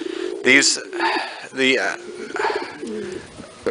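Pigeons coo in soft, repeated throaty calls close by, mixed with a voice talking throughout.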